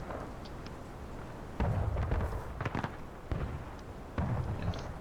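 Booming artillery fire from Confederate guns in The Blue and The Grey, a Civil War game, sounding as three or four heavy, moderately distant blasts spaced apart over a steady rumbling battlefield background.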